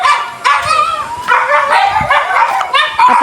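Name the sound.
dogs barking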